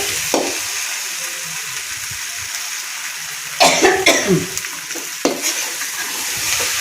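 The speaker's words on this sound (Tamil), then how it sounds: "கருவாட்டு பொடியும் நல்லா சேர்த்து நல்லா வதக்கணும்." Masala with dried fish powder sautéed in a pan, a steady sizzle running throughout with a burst of scraping and stirring clatter in the middle and a few brief knocks, close by with no talking.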